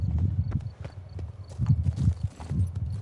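Hooves of the horse Roach clip-clop in a steady trotting rhythm in The Witcher 3, close and clear over low game ambience.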